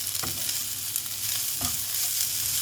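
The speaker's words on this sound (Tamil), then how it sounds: "மிளகா, கொஞ்ச நேரம் வதக்கிட்டு அதுக்கு ஆஃப் பண்ணிடலாம்." Chillies sauté in a hot pan for an omelette, a continuous sizzle and hiss with a few soft stirring scrapes, close and moderately quiet.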